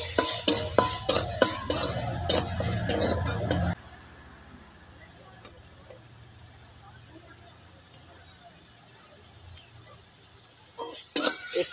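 Chopped onion stirred and fried in a pan for a cabbage dish, loud rhythmic scraping strokes with sizzle for a few seconds, then a quiet stretch of faint frying before the stirring resumes.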